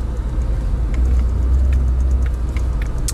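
A Lada Niva driving off-road with its differential locked: a steady low engine drone and drivetrain rumble, close and fairly loud, with faint rattles and knocks over the top.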